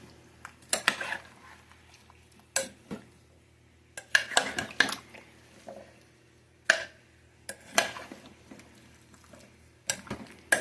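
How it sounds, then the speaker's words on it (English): Chicken thighs, potato, carrot and onion being stirred in a slow cooker, with a series of sharp spoon scrapes and clinks against the pot in irregular clusters, close and fairly quiet, with no talking. "And we'll give it a little stir."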